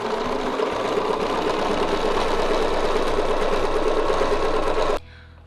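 Sewing machine stitching a full circle on a quilt block with a template, running steadily and loudly for about five seconds with a fast even hum, then stopping abruptly.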